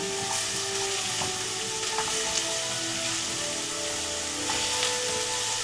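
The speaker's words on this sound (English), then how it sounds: "You hear that sizzling?" Food sizzles and crackles steadily in a hot pan while being stirred at home, a constant close hiss with faint scraping clicks and no talk.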